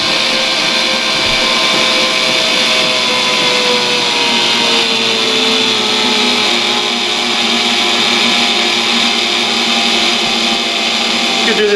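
Electric mixer beating chocolate chip oatmeal cookie dough in a kitchen, a steady loud whirring motor hum that runs unbroken throughout with no talk.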